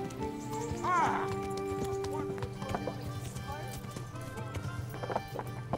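Horse hooves clip-clopping in the medieval video game Kingdom Come: Deliverance, a steady rhythmic trot mixed with game music and a brief whinny, with a voice talking over it.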